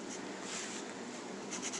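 Steady scratching of a pen or marker writing by hand on a surface, close and continuous for a couple of seconds, with a few brighter strokes near the end and no talking.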